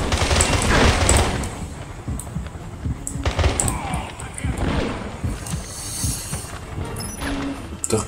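Bursts of gunfire from the video game James Bond 007: Blood Stone, loud and dense near the start, then thinner scattered shots and impacts, with a voice speaking over the game sounds.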